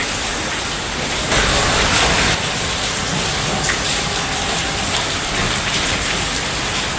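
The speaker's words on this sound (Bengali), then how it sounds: "দেখেন সারাদিন বৃষ্টি পড়তেছে, বৃষ্টি আর থামছে না।" Heavy rain pours nonstop with stormy wind, a loud, dense, broadband roar that holds steady from start to finish with a few brief surges and no voices.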